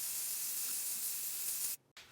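Steady close hiss of an aerosol spray can painting a door frame, continuous for nearly two seconds before briefly cutting out and resuming.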